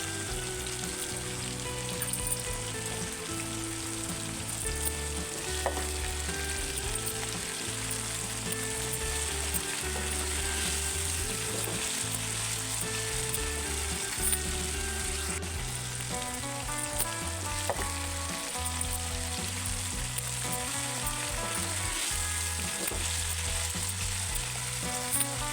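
Soaked chana dal frying in a hot tempering for ridge gourd curry, a loud continuous sizzle with stirring scrapes and clicks running throughout, close up and without speech.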